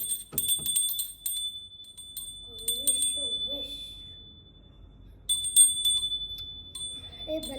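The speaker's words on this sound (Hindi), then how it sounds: "घंटी घंटी बजानी ना" A small bell rung for a home prayer to Laddu ji gives bright, high chimes in two bursts, fading into a faint lingering ring between them, with a voice briefly audible in the gap.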